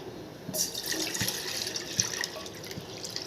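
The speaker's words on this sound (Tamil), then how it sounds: "அடுப்பில் சட்டியை வச்சாச்சு தண்ணியை ஊற்றிப்போம்" Water is poured into a pan sitting on a lit stove while hibiscus syrup is being made. The pouring is a faint, steady splashing trickle with light drips, and nobody speaks.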